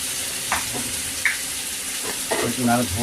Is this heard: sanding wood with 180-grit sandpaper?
no